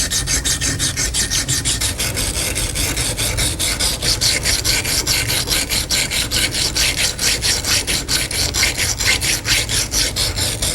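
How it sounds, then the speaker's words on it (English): A knife blade being ground against a Razor Edge coarse hone to set the edge relief, a loud, continuous rasping scrape in fast, even back-and-forth strokes, close up and alone. "The hone that Joe is using to grind in the relief on that blade is what we call the razor edge coarse."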